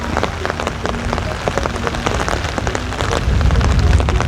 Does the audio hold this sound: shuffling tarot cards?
no